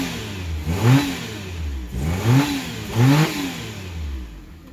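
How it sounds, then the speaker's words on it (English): A smoky automatic Holden VN Commodore's engine is revved three times in a row, each rising and falling roar returning to a rumbling idle, heard close up with no talking. "just going to rev it up for me"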